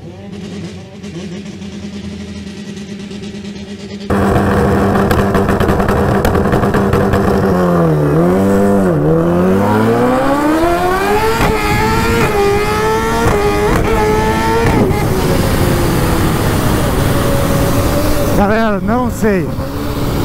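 Drag-racing motorcycles, among them a Kawasaki H2 and a Suzuki Hayabusa, launching at the Velopark strip: a quiet idle suddenly gives way to loud, sustained engine roar with rising revs and gear shifts, and a commentator talks over it.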